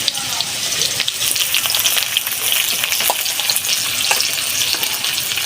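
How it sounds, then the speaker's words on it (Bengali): Onion, chopped tomato and salt frying in a pan, a loud, steady hiss and crackle of hot oil with occasional soft stirring clicks, heard close and with no talk. "নুন, ভালো করে ভেজে নিন।"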